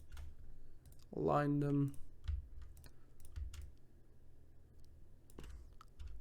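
Someone types on a computer keyboard with scattered, light clicks spread through the clip. A short spoken phrase comes near the start.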